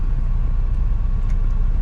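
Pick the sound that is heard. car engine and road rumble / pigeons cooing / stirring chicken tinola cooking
car engine and road rumble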